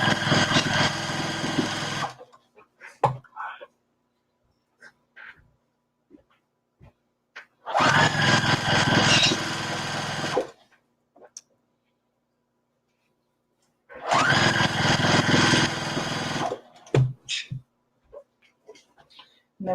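A sewing machine stitches binding onto a quilt in three loud, close runs of steady whirring, each lasting a couple of seconds, separated by quiet gaps with small handling clicks and rustles.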